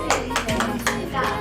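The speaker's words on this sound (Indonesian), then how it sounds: "Tepuk tangan." Wedding guests clapping their hands, a few loose, uneven claps close by over a low background hum, with a voice briefly present.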